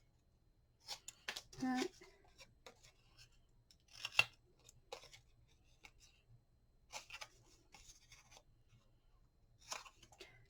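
Scissors trim a paper craft piece for a mini album, making a series of crisp, close snips and rustles spaced out with pauses, while a quiet voice speaks now and then.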